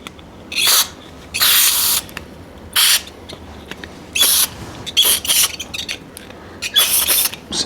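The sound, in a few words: spraying with a nozzle on a mountain bike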